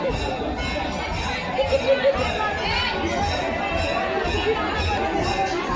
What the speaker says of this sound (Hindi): यहाँ पे आप देख सकते हो बहुत ही ज़्यादा भीड़ बने हुए हैं